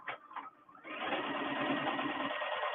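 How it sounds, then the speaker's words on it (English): Embroidery machine stitching at its top speed: a steady, dense mechanical whir that starts softly after brief handling noises, then runs continuous and loud close by. "I just wanted you to hear the machine run. And it's up to its highest speed now."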